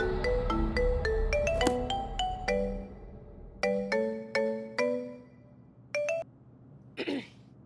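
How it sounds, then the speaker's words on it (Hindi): Phone ringtone playing a bright melodic sequence of notes, loud at first, then repeating in shorter bursts with pauses before stopping. "एक ही रिंग में फोन उठा लिया तूने"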